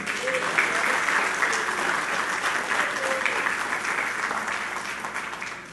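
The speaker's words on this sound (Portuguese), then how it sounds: "pode aplaudir a Jesus" A church congregation applauds during a night service, sustained dense clapping of many hands, fairly even and moderately loud for the whole stretch, with faint voices and a few brief tones underneath.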